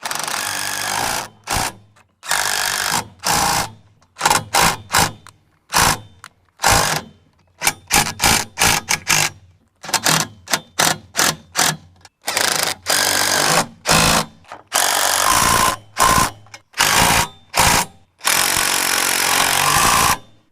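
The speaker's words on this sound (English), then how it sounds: "hold this side with a wrench and then hit this side with the impact" Repeated short bursts of an impact wrench rattling hard while tightening a bolt on a tractor canopy bracket for a Kubota M6060, loud, close and choppy with brief gaps between hits.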